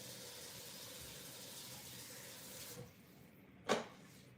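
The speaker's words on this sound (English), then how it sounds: "what I'm doing right now, guys, is I'm just washing the lentils" Running water from a kitchen tap pours steadily over lentils being rinsed, a continuous broadband rush that cuts off near the end and is followed by a brief clink.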